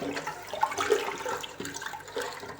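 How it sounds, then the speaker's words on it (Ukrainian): Brine of water, sugar and rock salt is poured over tomatoes in a jar for fermented winter pickles, making a close, gushing, splashing pour that rises and falls over a couple of seconds. "Заливаємо помідори нашим розсолом."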